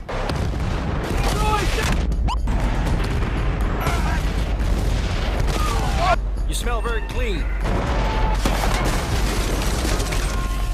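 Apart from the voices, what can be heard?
explosions and gunfire in video game Battlefield Bad Company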